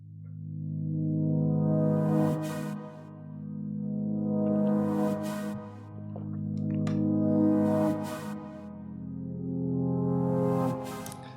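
A sustained, warm synth pad chord swells and fades in slow waves, with airy high shimmer pulsing roughly every few seconds.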